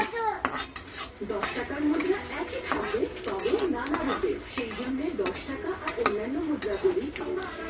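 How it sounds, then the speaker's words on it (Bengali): Dried red chilies fry in a pan for chicken bhuna khichuri while a utensil stirs and clinks against the metal in steady, busy scrapes. A soft, voice-like murmur runs underneath throughout. "এবার দিয়ে দেবো শুকনো লঙ্কা। এবার এটা ভালো করে একটু ভেজে নেব।"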